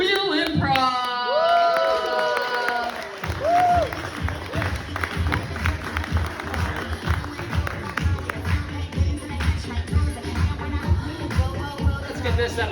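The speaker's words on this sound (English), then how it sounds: "I want you guys to give a round of applause for Matt and Peter from Third Wheel Improv." An audience at an improv comedy show in a downtown Toronto venue bursts into applause and cheering, with whoops and voices at the start, then steady clapping building and holding.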